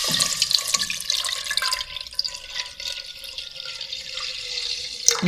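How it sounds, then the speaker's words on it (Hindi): Milk poured into a pan sitting on a stovetop burner, a steady liquid splash and trickle lasting several seconds, close and fairly loud with no talking. "तो इसमें डाल देते हैं दूध।"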